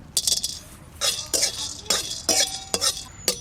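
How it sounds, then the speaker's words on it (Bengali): Whole cardamom, cloves and cinnamon are dry-roasted in a hot, oil-free kadai and stirred. Short bursts of scraping and clinking repeat irregularly at close range, with quieter gaps between them and no talking. "এলাচ, লবঙ্গ, দারচিনি শুকনো খোলায় ভেজে রাখবো।"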